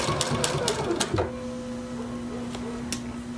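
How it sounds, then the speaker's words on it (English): A sewing machine top stitches a sweatshirt with a fast, steady mechanical chatter that runs about a second, then stops, leaving a low hum and a couple of faint clicks. "So it's going to top stitch down, and I'm watching how my fabric guides into that foot."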